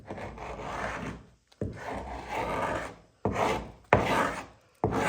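A hand scraper strips old finish from a 1950 Chris Craft U22, a 22-foot wooden boat, in four close rasping strokes separated by short pauses.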